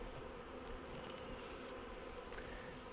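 Honeybees from a live swarm being caught and hived into a Flow Hive, a steady dense buzzing that holds close and fairly loud for the whole stretch with no voices.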